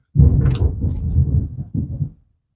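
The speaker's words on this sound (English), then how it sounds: "there's thunder going on right now. I'm sure you guys could hear that. It's a big thunderstorm." Thunder from a big thunderstorm rolls as a deep, loud rumble lasting about two seconds, swelling early and then fading out in a final lower growl.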